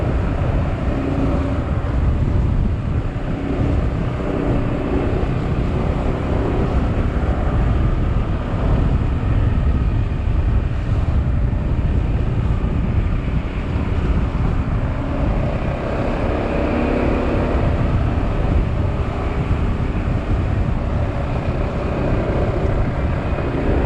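A SYM Maxsym 400 scooter ridden through mountain bends, with a steady, loud engine drone and heavy wind rush over the microphone throughout, moderate throttle without hard revving.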